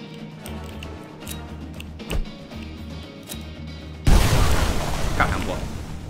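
A hand grenade going off in a tank war simulator game, a sudden loud blast partway through that gives way to a roaring, crackling wash, following quieter gunfire and ticking sounds.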